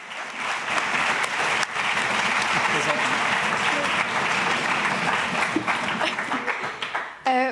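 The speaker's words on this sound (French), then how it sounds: "Et applaudissez-la peut-être déjà pour commencer." Audience applause fills a hall at a school-themed conference in France, steady dense clapping sustained throughout, loud and close, tapering briefly near the end before a final swell.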